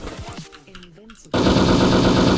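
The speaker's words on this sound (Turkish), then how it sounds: "Onu da vurayım." Rapid automatic gunfire erupts loud and close in a video game, a continuous dense rattle following a brief stretch of talking and game sounds.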